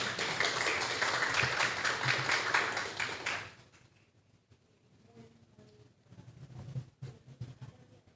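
Audience applause at a national public procurement arbitration essay contest award ceremony, a dense burst of clapping for about three seconds that cuts off, followed by quiet room noise and faint scattered sounds.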